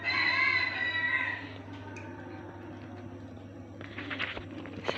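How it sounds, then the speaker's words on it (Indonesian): Chickens outdoors in rainy Wonosobo: a rooster crows in a drawn-out call at the start, followed by softer scattered clucking, moderately distant over steady background hum. "Sama itu suara ayam"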